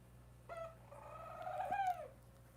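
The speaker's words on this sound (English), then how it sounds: "So that's my bird singing constantly in the background." A pet bird in a fish room gives a faint, drawn-out warbling call in the background, a short note followed by a longer rising and wavering phrase, over a low steady hum.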